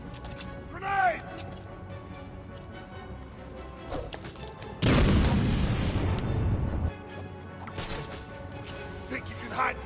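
A grenade goes off in Batman: Arkham City with a loud, roaring blast lasting about two seconds, set among quieter game clatter and character voices talking before and after.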